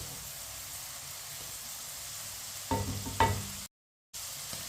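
Green peas fry in a pan over medium heat with a steady, close sizzle and hiss. A couple of spatula stirs and scrapes clatter near the end, then the sound cuts out briefly.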